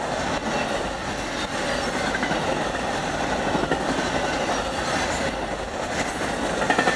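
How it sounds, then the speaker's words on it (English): Amtrak Auto Train passing at speed in Satsuma, Florida, a loud, continuous roar of rolling cars with rhythmic clickety-clack from the wheels and faint squealing, close by. "the Amtrak Auto Train here in Satsuma, Florida"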